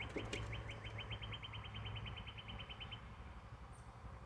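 Birds chirp outdoors in a quick, steady run of repeated tweets against a soft background hum, moderately near, with a few sharper calls at the start and no talking.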